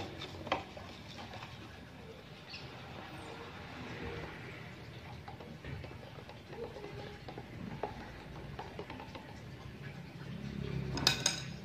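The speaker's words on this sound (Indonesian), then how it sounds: "Kita biarkan sampai larut. Kita aduk." KOH (potassium hydroxide) being stirred into water to dissolve it for NPK fertilizer: a low, continuous swirling with faint scattered clinks of a utensil against a container, and a brighter clatter near the end.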